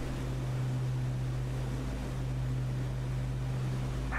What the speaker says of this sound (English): Give these engines a little bit of a break before they're about to be very busy.